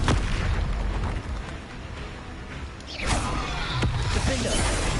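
A Confringo spell explosion in the video game Hogwarts Legacy, a loud booming blast with a dense, rumbling burst that swells, dips and hits again midway, then rolls on in a noisy roar.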